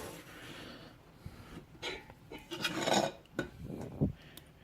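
Spoon scraping cooked milk solids off the bottom of a pot while making Mediterranean cheese: a series of quiet, irregular scrapes and clinks of metal on metal, close and soft, with no talk.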